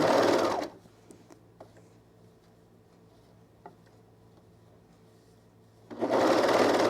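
A sewing machine runs in steady bursts while stitching a knit neckband onto a garment. A loud whirring run opens and closes the passage, with quiet ticks and clicks in between.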